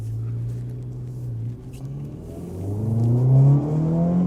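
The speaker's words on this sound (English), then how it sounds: "That exhaust got a deep growl to it." Acura Integra Type S exhaust under acceleration, a deep growl that holds low, dips briefly, then climbs in pitch as revs rise, heard close from inside the car with no talking.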